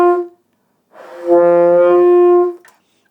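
Alto saxophone playing a low note that comes out with honky overtones, a short tone followed by a sustained reedy note of about a second and a half, close and fairly loud, with no talking.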